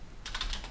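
A few quick keystrokes tap on a computer keyboard just connected to a small ARM computer board, a faint rapid burst of clicks with no voices.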